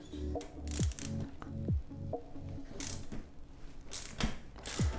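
A tool loosens an Evotech frame slider bolt on a Ducati motorcycle in a garage, giving a series of close mechanical ratcheting clicks and metallic turns across several seconds, with no voices.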